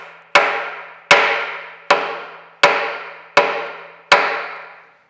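A hammer taps a steam stoker engine's main casting set up on a metal planer: six sharp, ringing metallic blows at a steady pace, each one decaying slowly. The sound is close and loud, with no talk.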